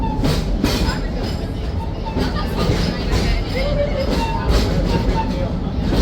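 Serengeti train ride at Busch Gardens Tampa: a park train rolls along with steady rumble and rhythmic clacking, a crowd murmuring around it throughout.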